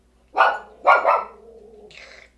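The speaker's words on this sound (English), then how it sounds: "dog barking." A dog barks twice nearby in a home kitchen, two loud sharp barks followed by a low trailing whine or growl.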